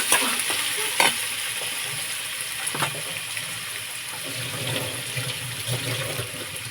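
Potatoes sizzle steadily in a pan, close by, as they are stirred. Scraping knocks and a watery hiss come through now and then, and nobody speaks.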